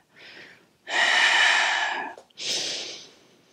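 Audible breathing during a yoga hamstring mobility practice: a soft inhale, then a long, forceful exhale, followed by another breath, all close and clear with no talk.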